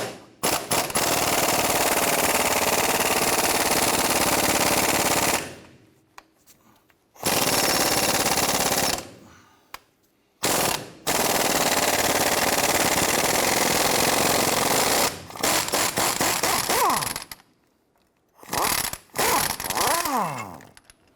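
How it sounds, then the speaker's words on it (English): Impact wrench hammering off the sway bar link bolt on a 1993-1997 Ford Ranger, long loud rattling bursts separated by short pauses, close up and dominating. "an 18mm swivel with our impact on the bolt side. Let's go ahead and remove this."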